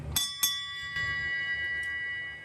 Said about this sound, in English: you guys all know I love ship's bells, and so I just got to do it.